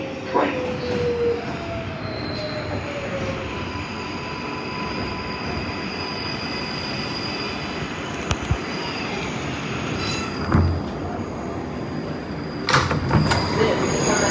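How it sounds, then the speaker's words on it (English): An NYC subway R142A 4 train runs along the track in a steady, loud rumble with high, drawn-out wheel squeals and a few sharp clanks. "This is a Manhattan Bound 4 train."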